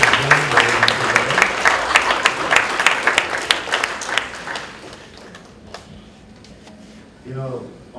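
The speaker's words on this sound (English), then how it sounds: "he deserves a very big round of applause" Audience applause at a medical education session on sleep and meditation, a dense burst of clapping for about four seconds that thins out and fades, followed by a brief voice near the end.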